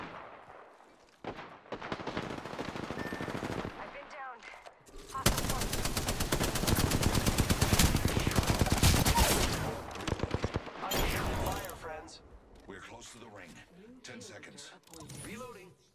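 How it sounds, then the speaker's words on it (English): Enemies in a shooter video game fire rapid automatic bursts, with a long loud sustained volley in the middle and shorter shots around it, mixed with game announcer voice lines. "The enemies are shooting at me"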